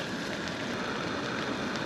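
Steady drizzling rain patters outside a tent pitched at abandoned prison farm ruins, a constant soft hiss filling the background without a break and no voices.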